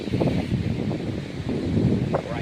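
Strong wind gusting along a seashore, buffeting the microphone with a steady, rough low roar and rustle through the whole short stretch, loud and close.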